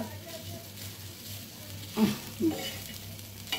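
Dried shrimp frying in a pan for a mashed shutki bhorta, a low steady sizzle with a few louder stirring scrapes near the middle and end.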